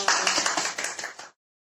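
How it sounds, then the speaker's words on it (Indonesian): A classroom group claps enthusiastically in a short, lively burst of close, bright hand claps that stops abruptly after about a second. "Oke, beri tepuk tangan meriah dong."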